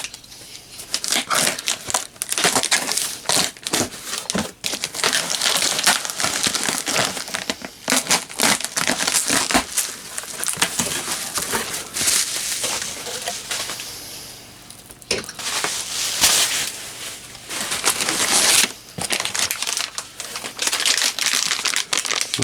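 Tough packing tape is ripped and peeled off a mail parcel holding Eico 150 rebuild parts, a long stretch of loud, close crackling, tearing and crinkling in irregular bursts with brief pauses.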